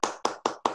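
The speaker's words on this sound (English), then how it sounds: "Want to clap for you?" A few people clap for a painter after an acrylic landscape painting demo, four distinct close claps in a steady rhythm, with a faint voice at the very end.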